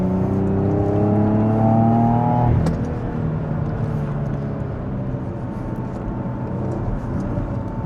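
A Porsche Cayenne GTS SUV engine revs with a rising whine as it accelerates, then the pitch drops sharply at a gear change and it settles into a steady cruising hum.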